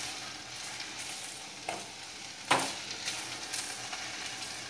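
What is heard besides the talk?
stirring okra in a pan for bendakaya pulusu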